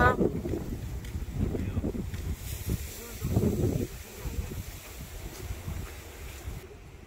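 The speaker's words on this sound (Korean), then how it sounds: "와 바람" Strong wind gusting across a coastal hiking trail by the sea at Taean, buffeting the microphone in loud, uneven rushes, with brief voices partly underneath.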